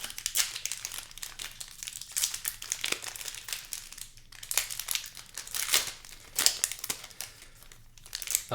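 Crinkling plastic wrap is torn and crumpled off Commander Masters collector booster packs, a close, continuous run of crackles and rustles with brief louder tears.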